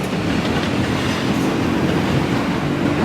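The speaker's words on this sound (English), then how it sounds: "there's the Yamanote line going by" A Yamanote Line train passes Osaki Station in Tokyo: a loud, close, continuous rumble of rail cars and wheels that holds steady for the whole stretch, with no voices over it.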